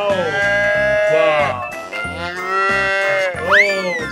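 A cow in a 3D wild animals video game gives several loud, drawn-out moos in a row, each a sustained bellow, ending with a higher rising call.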